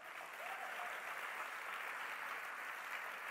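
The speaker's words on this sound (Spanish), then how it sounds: "Date el mejor aplauso entonces" An audience keeps up a continuous, even applause, faint and somewhat distant, forming a steady hiss of many hands for the full few seconds.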